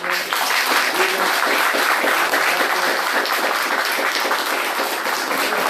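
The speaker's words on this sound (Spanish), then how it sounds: "Vamos a despedir a Daniel con un aplauso" A lecture audience applauds the speaker at the close of a talk, a loud, continuous burst of many people clapping that stays steady for several seconds, with a trace of voices beneath.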